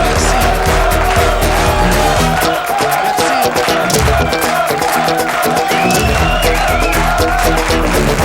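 A television studio audience keeps up loud, dense, sustained applause and cheering with occasional whoops, a continuous roar filling the room.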